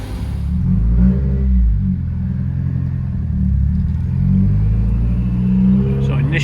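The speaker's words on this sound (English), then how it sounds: "This exhaust is loud." Loud Subaru exhaust while driving, a deep throaty rumble from inside the car that swells and eases with the throttle, steady and close, with a few faint clicks near the end.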